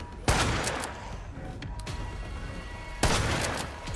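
Gunfire in the survival horror game Project Resistance, a Resident Evil spin-off: two sharp, loud bursts of shots, one near the start and another about three seconds later, with mechanical clatter and game ambience running between them.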